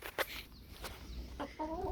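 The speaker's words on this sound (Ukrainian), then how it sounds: "Подивіться заліз в гніздо півень і щось там дивиться." A few short, close clucks from a rooster inside a hens' nest, with soft rustling between them.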